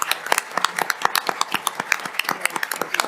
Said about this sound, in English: A round of applause for our panellists